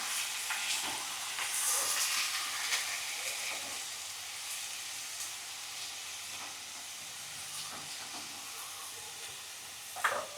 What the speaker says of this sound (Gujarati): ગેસની ફ્લેમ ધીમી કરી નાખવાની. આવી રીતના હલાવી નાખવાની.